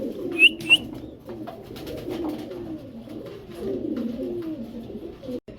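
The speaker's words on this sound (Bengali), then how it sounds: "অনেক সুন্দর এই ক্রিম বার বুদাপেস্ট মাদি কবুতরটা" Budapest pigeons at a seller's, soft continuous cooing close by, with two brief chirps near the start.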